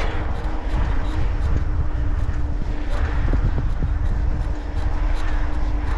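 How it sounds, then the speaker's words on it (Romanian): Headwind rushing across a bicycle rider's microphone at about 16 km/h on a long countryside ride: a steady, dense roar of buffeting air that lasts throughout, with a few faint thumps underneath. "Bate vântul din față de asta."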